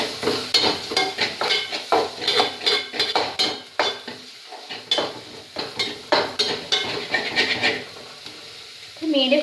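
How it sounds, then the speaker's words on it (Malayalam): A utensil stirs pumpkin leaf thoran in a pan with rapid, rhythmic clinks and scrapes over a faint sizzle, pausing briefly midway before resuming. "അപ്പം അത് നന്നായിട്ട് ഇളക്കി കൊടുക്കുക"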